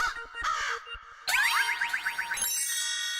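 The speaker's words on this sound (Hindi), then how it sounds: "लीजिए, कौवे तो आ गए।" Two crows caw in a royal palace, a run of harsh, rapidly repeated calls that start in short bursts and then become a loud, dense cascade close to the listener.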